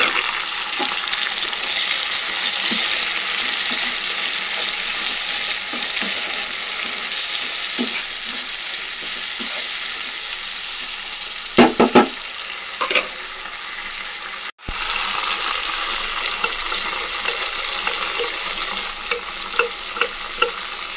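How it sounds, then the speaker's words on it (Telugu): Onions and tomatoes fry in a pan for tomato rice, giving a steady close sizzle with occasional stirring scrapes and clicks throughout, and no talking. "ఆనియన్స్ అయితే బాగా వేగేసాయి. ఇంకా టమాటాస్ అయితే వేసుకున్నాం."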